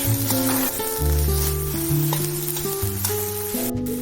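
Spices with cumin seeds are stirred in a frying pan for a spicy small-fish curry, giving a steady, even sizzle. Melodic background music plays over it throughout.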